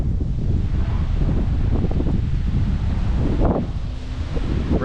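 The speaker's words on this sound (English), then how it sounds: "we're in a storm. It's blowing around pretty good here." Strong storm wind buffets a boat, a steady loud roar of gusts and rushing air with water noise beneath, continuous throughout and close to the microphone.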